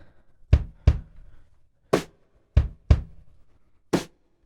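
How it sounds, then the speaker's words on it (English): A sparse, simple indie folk drum pattern, snare played with brushes: soft, brushy hits, some in quick pairs, with a mellow low thump behind each stroke and short gaps between. "So it's a really simple drum pattern. I actually recorded the snare with some brushes"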